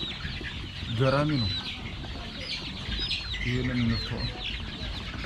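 Backyard chickens cluck nearby in short bursts of harmonic calls, one around the first second and another near the fourth, under a voice.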